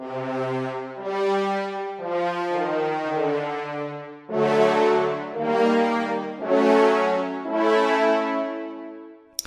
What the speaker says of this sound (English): but the brass shorts sound like this.